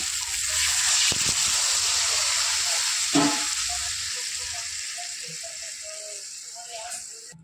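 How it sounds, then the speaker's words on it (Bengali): Water poured into a pan of fried spices for a fish roe curry gives off a steady loud hiss and sizzle that slowly fades over several seconds. "এবার দিয়ে দেবো পরিমাণ মতো জল"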